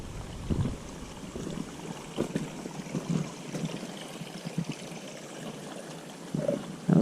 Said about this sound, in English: Water coming down through here too.